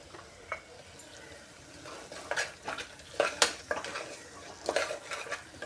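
Kerala-style mutton curry masala is stirred and sautéed in a pan: a spoon scrapes and clinks against the metal in uneven strokes over a low sizzle, close and fairly quiet.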